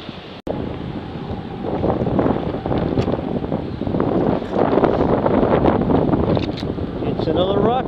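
Wind gusts roar steadily across the microphone on the Kankakee River while fishing for smallmouth bass in high water, a dense rushing noise that continues throughout with a brief dropout near the start.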